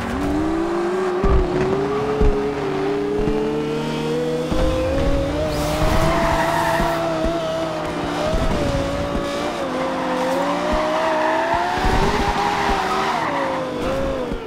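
A 777-horsepower Lexus LFA supercar in the racing game Forza Horizon 2, its engine holding a loud, rising and falling whine while the tires squeal and skid almost continuously throughout.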